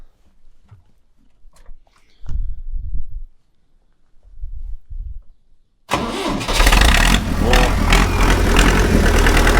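Quiet rustling and low thumps, then a tractor engine cranks and roars to life after a fuel system repair, running loud and rumbling steadily close by.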